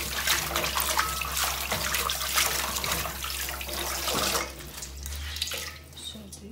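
Running tap water splashes steadily as a handkerchief is rinsed beneath it, a close, continuous hiss that cuts off near the end, leaving faint drips and a quieter room.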